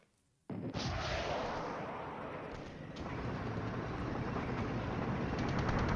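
Artillery fire in the war strategy game Flashpoint Campaigns Southern Storm begins abruptly as a loud, dense roar of rumbling blasts that continues without break and builds slightly toward the end, with no voices.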